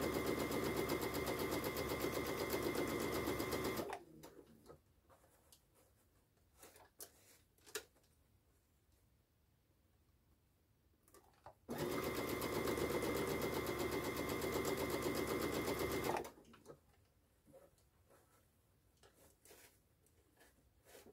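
A sewing machine stitching an organza hair scrunchie runs in two long, steady whirring stretches, close and loud, separated by quiet pauses with faint handling clicks and fabric rustle.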